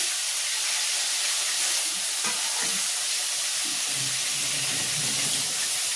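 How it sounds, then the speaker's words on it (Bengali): Pieces of katla fish sizzling in hot oil, a steady frying hiss with scattered pops and crackles as the pieces settle in the pan. "এদিকে তেলটাও আমার গরম হয়ে গেছে। মাছগুলো আমি একটু ছেড়ে দেবো এবার একটা একটা করে।"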